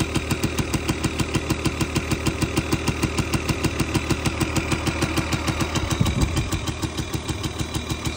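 Small Yamaha QT50 scooter engine idling close by, a steady, fast, even putter of regular pulses with a slight rattle, holding a constant pace throughout.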